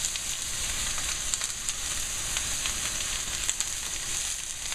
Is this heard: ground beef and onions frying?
yes